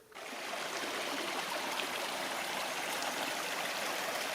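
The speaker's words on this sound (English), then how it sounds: "That tiny creek is now quite a little stream." A small mountain stream swollen with snowmelt flows steadily past a shaded bank, a continuous, full rushing and babbling of water close by with no pauses, heard alone.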